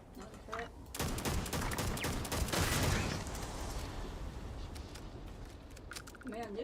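Turret gunfire in the Starfield video game rattles out in a dense, sustained barrage with rapid, overlapping shots that gradually thin out, while a voice talks quietly underneath.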